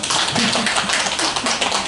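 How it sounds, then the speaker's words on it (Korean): Audience at a Gimhae night-market festival stage show claps for a performing troupe: dense, steady, close applause filling the whole moment without pause, with no clear voices over it. "열심히 살으라고 박수 한번 쳐주세요"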